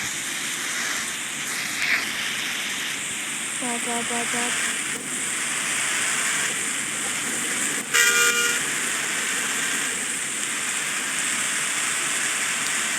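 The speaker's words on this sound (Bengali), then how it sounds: "আজকের বাইরের পরিস্থিতি খুবই খারাপ, খুবই বৃষ্টি পড়ছে" Heavy rain falls in the Bus Simulator Indonesia game, a constant hiss of rain on the bus with two short horn toots partway through.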